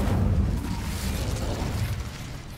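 An Incendio fire spell in Hogwarts Legacy, cast as a dense roaring blast with a deep booming body that holds steady for a couple of seconds and then tapers slightly.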